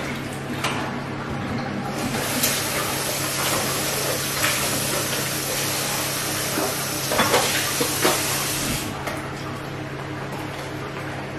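Running water splashes steadily as a kitchen item is washed, with occasional clatters, until the flow stops near the end.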